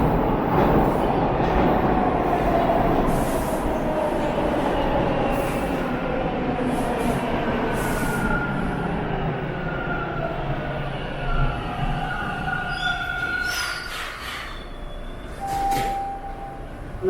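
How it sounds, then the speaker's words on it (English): A train rumbles steadily past on Danforth Ave in Toronto, loud and close for the whole stretch, with faint squealing tones rising late as the cars roll by. "Here comes the train"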